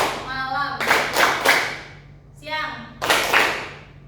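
A group of students in a counselling session claps in patterned bursts for the tepuk pagi, siang, malam chant, rapid clusters of claps broken by a short pause, with voices chanting alongside.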